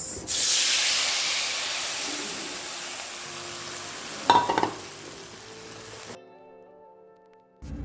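Dry red chilli and black mustard seeds hitting hot oil give a loud hissing sizzle that slowly fades, with a burst of spluttering crackles midway before the sound cuts off.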